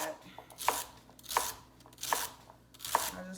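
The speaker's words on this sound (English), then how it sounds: "I just like to rough chop these. They don't have to be super perfect." A knife rough chops celery ribs on a cutting board, four crisp, evenly spaced crunching strokes heard up close.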